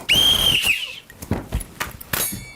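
A whistle blown once in a shrill, sustained blast at an outdoor march, followed by scattered sharp knocks and bursts of crowd noise.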